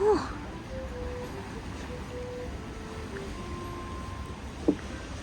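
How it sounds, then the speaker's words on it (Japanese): Lake Hamana waves at a roadside service area wash in a soft, steady hiss, faint and continuous, with a brief knock near the end and a low voice in the background. "波の音そう、綺麗だね。"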